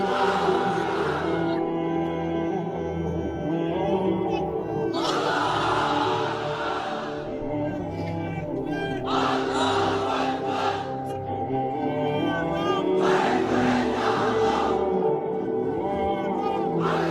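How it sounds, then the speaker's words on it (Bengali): A crowd of unmarried men at a religious gathering chanting the takbir in loud unison. Several long, swelling collective shouts follow one another, separated by brief pauses. "এবার অবিবাহিতরা দাও লিল্লাহি তাকবীর।"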